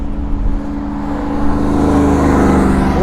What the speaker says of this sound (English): Ooh, look at that truck.